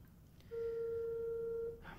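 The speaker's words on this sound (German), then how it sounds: "Warte mal, ich rufe den jetzt mal an." Telephone call tone, a single steady electronic beep sounding clearly for about a second over faint background hum, with no talking.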